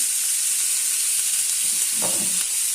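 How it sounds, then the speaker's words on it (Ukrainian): Peppers sizzle steadily in a hot pan, with a soft stirring shuffle near the end. "смажимо перчик"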